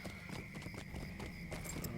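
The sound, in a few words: horse hooves clip-clop while riding in video game LOTRO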